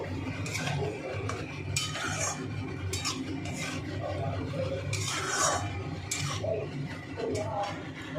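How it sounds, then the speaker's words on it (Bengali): Fish being stirred together with spices and chopped coriander in a pot for vola macher curry, with repeated scraping and clinking of a utensil against the metal over a steady low hum, close and moderately loud. "ভালোভাবে মিশিয়ে নেব।"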